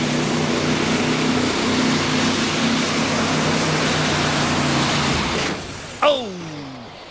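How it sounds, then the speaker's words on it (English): The Blue Ox super semi truck, powered by a big Cat engine, roars at full power during a tractor pull at the 2008 NTPA Super Nationals in Tomah, Wisconsin. The loud, steady roar drops off near the end, followed by a short burst and a falling whine. "First truck out, Blue Ox, big cat for horsepower."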